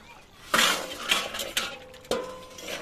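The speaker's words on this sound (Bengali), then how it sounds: "তো একটু তরকারিটা খুলে নিচ্ছি" A lid is lifted off a pot of potato curry during home cooking, giving a few close metallic clanks and clinks spaced over a few seconds.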